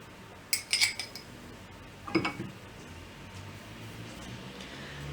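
A metal spoon clinks against a glass of lemonade while chia seeds go in, two short bright bursts of clinking about a second and a half apart over a quiet room hum.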